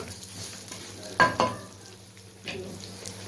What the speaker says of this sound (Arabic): هرجع هنا للشعريه بتاعتي، ماما هتقلب اهي